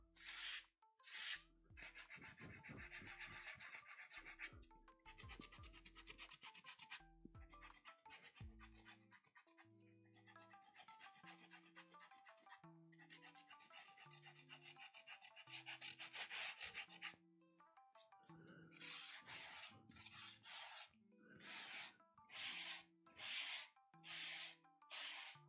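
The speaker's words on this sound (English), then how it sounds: "So then we have sandpaper of various grid sizes." Sandpaper rubs and scratches over a diorama storefront in long, close strokes, with stretches of brisk back-and-forth scraping that end in a series of short separate passes.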